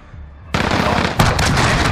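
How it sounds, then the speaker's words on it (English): Cruise missile strike in Call of Duty Warzone, a sudden loud close blast cutting in from near quiet, then a second impact and sustained roaring, crackling debris. "enemy cruise missile incoming!"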